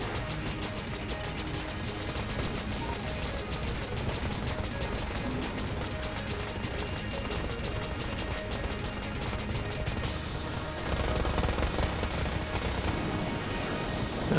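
Rapid gunfire from the Cactus gun in the video game Enter the Gungeon, a dense, continuous stream of shots with mechanical clatter, loud and steady throughout, growing heavier near the end.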